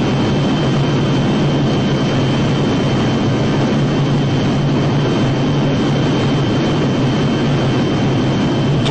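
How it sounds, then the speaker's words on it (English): Loud, steady roar of military jet aircraft engines, a dense broadband rumble with a low droning hum, sustained without a break in extremely hot conditions, no speech. "Getting these lumbering jets up in the air in extremely hot conditions is never easy."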